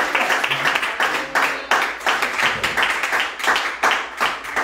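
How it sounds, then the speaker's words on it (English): A church congregation claps their hands in a steady, rhythmic burst during a service, loud and close, the claps coming in uneven waves for several seconds. "So now do me a favor. Clap your hands and give God glory."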